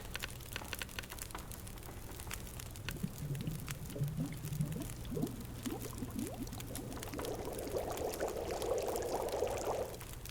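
Water trickles and pours into a pot to boil over a cedar firewood fire in the survival game The Long Dark, a soft, steady gurgle that rises in pitch and fills toward the end, with no talk.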